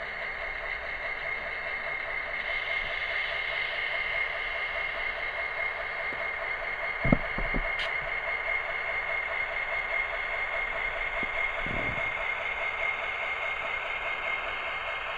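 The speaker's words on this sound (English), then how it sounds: "Very nice sounding locomotive." An Athearn Genesis SD70ACe model diesel locomotive hums with a steady, faint electronic engine drone and a high whine, punctuated by a couple of brief clicks midway.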